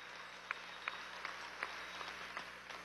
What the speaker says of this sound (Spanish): Un aplauso a Silita, ¿vale?